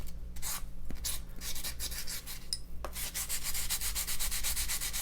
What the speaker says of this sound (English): I just want to scuff it up so that it'll take the dye.